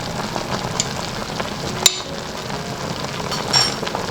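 Meat sizzling and frying in a pot for Moroccan mrouzia, a soft steady crackle broken by a sharp metallic clink of a utensil and occasional stirring scrapes, close up with no speech.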